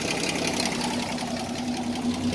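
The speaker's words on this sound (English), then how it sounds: "That's why they call it inline six. Yeah, engine runs good." Steady idle of an inline-six engine in a 1978 Toyota Land Cruiser with about 53,000 miles, a continuous close, even running drone with faint knocking pulses and no talk.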